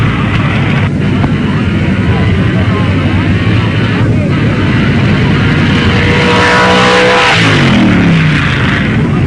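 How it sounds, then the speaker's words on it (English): A 1955 Chevy drag racer with a modified Corvette engine, loud and close, roaring steadily down a drag strip, with a rising engine note near the end. "Mike Marinoff, in a 55 Chevy with a modified Corvette engine"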